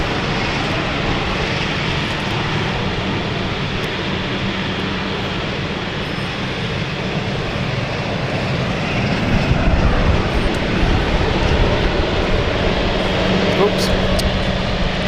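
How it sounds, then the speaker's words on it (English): A Luxair Dash 8 turboprop starts its engines on the apron at London City Airport, a broad, steady roar with a low droning hum that grows louder about midway through. "Luxair is starting with the Dash 8 and I know you guys like a prop start"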